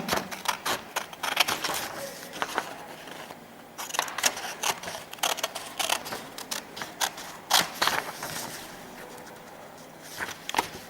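Scissors snip out a paper sketch of a cube-and-pyramid drawing, giving a steady run of close, sharp cutting clicks and rustles with brief pauses.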